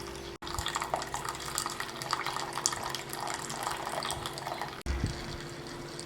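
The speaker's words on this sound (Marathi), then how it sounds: "चला आता गरमागरम चहा आहे ना गाळून घेऊ" Hot boiled masala tea pours through a strainer, making a steady close liquid trickle and splash that runs throughout with two brief breaks.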